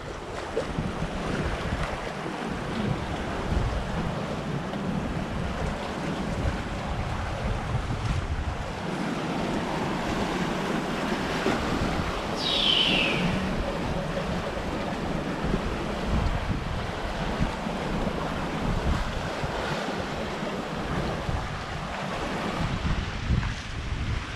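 Sea water churning and bubbling around a sailboat under acceleration on a passage toward Gibraltar, a steady loud rushing wash mixed with wind noise on the microphone, continuous and close, with no talk.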